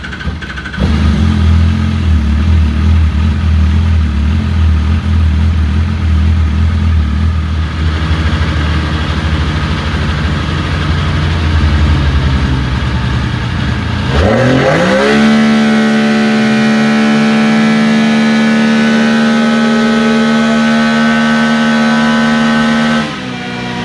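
A Textron Wildcat XX side-by-side engine with a tuned intake runs on a dyno, loud and close: a steady idle rumble, then a sharp rev climbing to a sustained high-pitched wail near the end.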